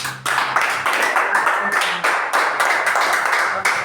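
A church congregation claps in steady rhythmic unison to glorify Jesus, close and loud, each beat sharp and evenly spaced across several seconds.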